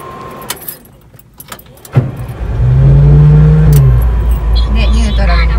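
A Volkswagen Type 2 bus engine cranks over with a sharp burst, catches and settles into a loud, steady air-cooled idle. Quiet clicks and shuffles come just before, and people talk faintly under the running engine.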